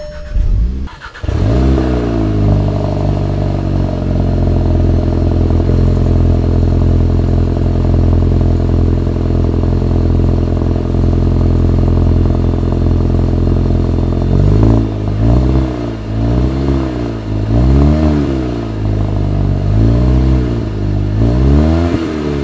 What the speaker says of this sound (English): We're gonna do a little cold start.